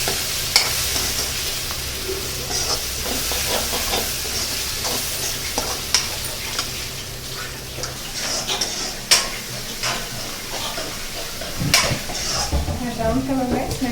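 Kerala-style chicken masala with mixed spice leaves frying in a pan, with a steady sizzle, repeated sharp utensil clinks and stirring scrapes at irregular intervals, close and moderately loud; no talk.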